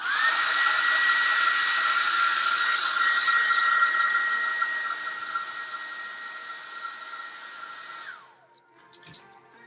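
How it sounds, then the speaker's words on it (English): A hair dryer blows loud, steady air across fresh acrylic paint for about eight seconds, its whine dropping slightly before the motor cuts off and leaves faint clicks and handling sounds. "Let me hit it with the dryer just a bit."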